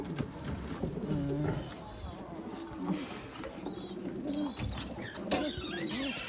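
Pigeons cooing in a home loft, repeated low throaty coos from several birds close by, overlapping with wing flutters and rustling, while someone talks intermittently.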